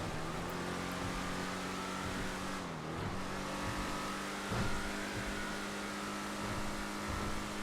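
The Tornado Rat Rod drag car in GTA FiveM holds a steady, humming engine drone at low volume, with a brief dip in pitch partway through as if shifting, and no voices.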